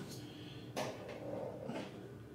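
A toilet room door in a deluxe Disney's Wilderness Lodge hotel room swings open with a soft latch click and a brief, quiet rustle, heard close in a hushed room.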